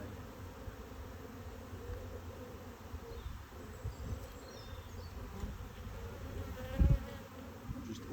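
Honey bees hum in an opened hive colony during an inspection, a dense, steady close buzz with occasional knocks and handling bumps from the frames and dummy board.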